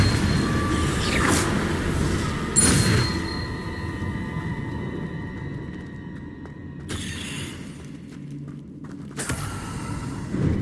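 A Confringo explosion spell in a wizard video game sets off several loud booming blasts, spread over ten seconds above a steady droning game background, with two bursts early and two later.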